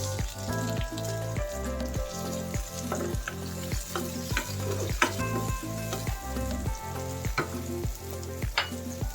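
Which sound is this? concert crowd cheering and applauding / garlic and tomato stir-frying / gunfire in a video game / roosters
garlic and tomato stir-frying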